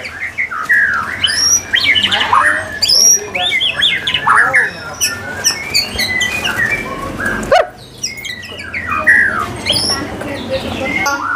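A caged songbird, a white-rumped shama kept for singing contests at a Jakarta bird market, squawks and chirps close and loud in rapid bursts, with a short break midway and faint talk and other birds behind it.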